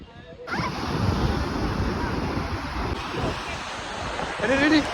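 Sea waves wash onto the shore in a loud, continuous roar with surging swells, heard up close alongside buffeting wind noise on the microphone.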